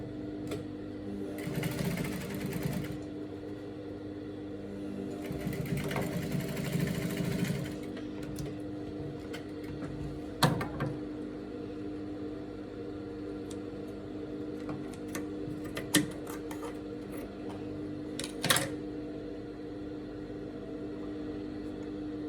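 Sewing machine stitching a straight leg pant, running in two short bursts of rapid whirring, then quieter handling with a few sharp clicks and taps between stitches, close and without talk.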